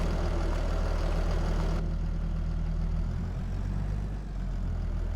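A tractor engine idles in a farming video game, a loud, steady low rumble with a regular chugging pulse that drops slightly in tone partway through and carries on without talk.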